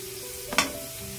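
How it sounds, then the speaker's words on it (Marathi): Chopped onion goes into a pan of oil over a low gas flame for a Malvani-style cabbage and dried-shrimp stir-fry, giving one brief, soft sizzle and stir against quiet kitchen background. "आता कांदा टाकते. कांदा टाकून घेते."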